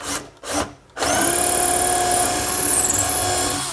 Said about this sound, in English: drill the rest of the way through.